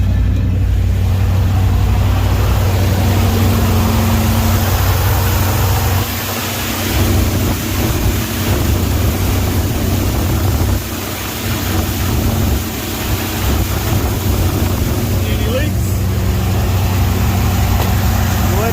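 A Dodge Sweptline truck engine idles and warms up after its Holley carburetor was fixed. A loud, close, steady rumble runs throughout, with slight dips in level.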